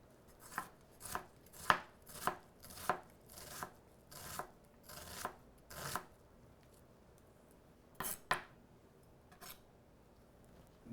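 Knife dicing a red onion into small pieces on a cutting board: a run of crisp, evenly spaced chops, a short pause, then a few more strikes, close and moderately loud with no talking.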